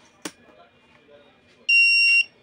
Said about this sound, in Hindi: देखिए ये इस तरह बीप का साउंड आ रहा है, ये डिटेक्ट कर रहा है मेटल को